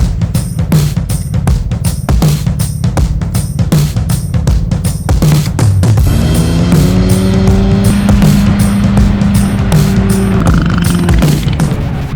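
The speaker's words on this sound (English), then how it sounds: "the back engine's revving up super loud" Go-kart engines rev hard on dry dirt, a loud, rough rhythmic buzz with rapid pulsing throttle bursts, then a rising, steadier whine as the revs climb.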